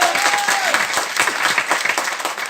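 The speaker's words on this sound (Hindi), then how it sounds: "जोरदार तालियां एक बार।" An audience at a business company gathering bursts into loud, dense applause, sustained clapping filling the hall from start to finish with no one speaking.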